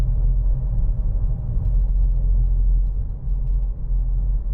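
A 2015 Peugeot 3008 1.6 BlueHDi diesel hums along steadily from inside the cabin while cornering, a low continuous engine and road rumble with no talking.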